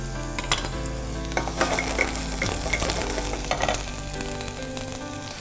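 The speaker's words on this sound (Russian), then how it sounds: "Пока наш лук жарится" Chopped onion frying in a pan and being stirred, a steady close sizzle broken by repeated scraping and clinking of the spoon, with no talk.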